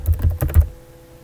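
Quick keystrokes on a laptop keyboard, about five close, crisp clicks in a fast burst typing a short word, then a quiet pause with faint room tone.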